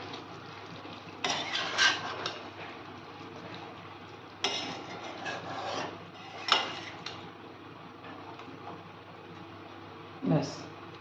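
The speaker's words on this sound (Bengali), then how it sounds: "এরপর ভালো করে নেড়ে চেড়ে দেবো।" Kadai chicken being stirred with a spoon in a pan with spice mix, giving a few scraping and clinking bursts spread across the clip, over a low background hum.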